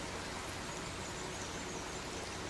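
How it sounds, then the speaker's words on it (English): A stream running full after heavy rain, giving a steady, close broadband rush of flowing water with no break or voices. "this water, which is flowing pretty good right now because we had a big rain here the other day"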